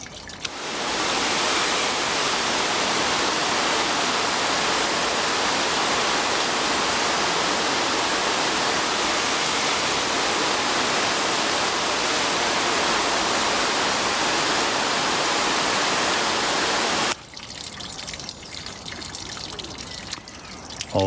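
Water sprays steadily onto a car panel freshly coated with Meguiar's Ultimate Quik Wax, a loud, continuous hiss up close that cuts off abruptly near the end, leaving a quieter mix of dripping and runoff.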